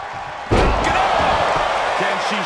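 During a women's WWE Raw match, a wrestler is driven into the ring by a superplex and lands with a heavy, booming slam. The roar of the crowd swells after the impact and a commentator talks through it.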